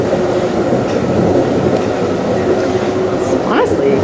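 Loud, continuous rumble of a moving Amtrak train on rails, heard from inside, with a dense low roar and faint squeals and rattles throughout.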